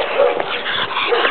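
A dog out on a walk whimpers and gives thin, high yips over a steady background rustle, close by and fairly loud in a short burst.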